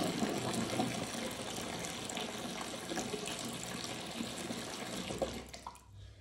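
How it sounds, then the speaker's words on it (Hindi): Cold tap water fills a bathtub ahead of a Persian cat's medicated bath, a steady close rushing splash that holds evenly for several seconds and then cuts off abruptly near the end. "जब तक ये ठंडा पानी भरता है"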